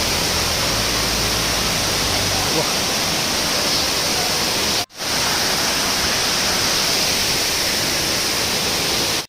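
The Talakona waterfall near Tirupati roars as a dense, unbroken rush of falling water, loud and close, with one brief cut partway through and no clear talk over it.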